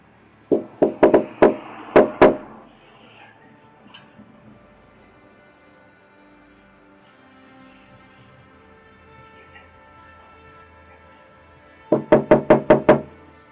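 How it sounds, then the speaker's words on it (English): A shave-and-a-haircut rhythmic knock on a front door, a loud, close burst of raps, then a quiet pause of faint background hum before another quick run of knocks. "When regular knocking doesn't bring the homeowner, they try the signature shave and a haircut knock."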